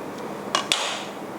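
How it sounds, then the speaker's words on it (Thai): Kitchen knife slitting the peel of a small banana for Thai candied bananas, two short crisp cuts close by in a quiet room, no talking. "เสร็จแล้วใช้มีดนะคะ ผ่าเปลือก"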